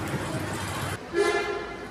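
A car horn honking somewhere close by outdoors, a brief tonal blare following a stretch of speech from someone talking over it.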